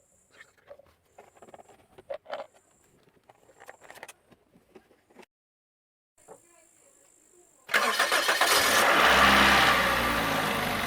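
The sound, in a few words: car engine starting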